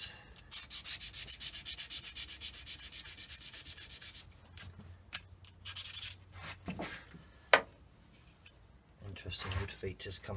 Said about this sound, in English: I always like to sand with the grain before I finish anything